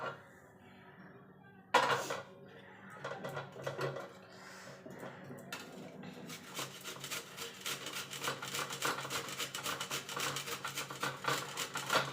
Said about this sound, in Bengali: গাজরগুলোকে আমি এরকম একটা গ্রেটারের সাহায্যে গ্রেট করে নেব